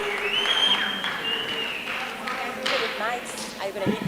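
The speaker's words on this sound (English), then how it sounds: "The claps, the screams." Festival crowd at the 2023 Kwande Festival in KwaZulu-Natal claps and screams, with shrill cheers rising over steady clapping and voices talking throughout.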